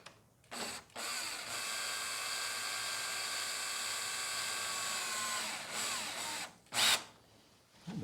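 A power drill runs steadily for about five seconds tightening a screw, with brief whirring bursts before and after, fairly close and loud.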